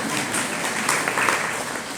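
An audience claps during a religious discourse, a sustained patter of many hands, moderately loud and unbroken, with no speech over it.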